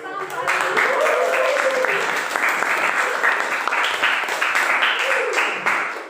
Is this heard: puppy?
no